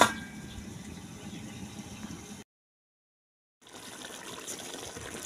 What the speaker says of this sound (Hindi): थोड़ा थोड़ा पानी डालते जाएंगे।